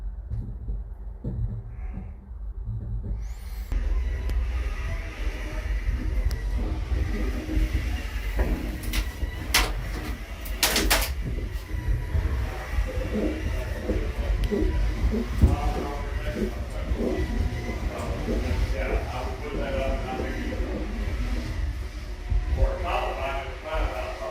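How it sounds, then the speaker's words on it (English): Steady low rumble and rattling of a descending aerial tram cabin on the Colorado Continental Divide, with occasional clanks and a voice speaking under the continuous mechanical drone. "We're on our way back down in the tram."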